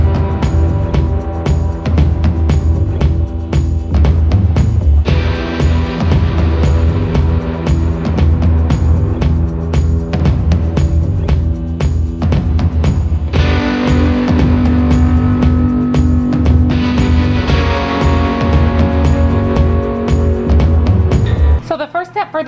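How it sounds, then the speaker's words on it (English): A microwave oven runs with bacon cooking inside, giving a steady, loud hum that fills the clip, with faint clinking and crackle on top and some voices in the room. "I have my bacon for the salad cooking away in the microwave"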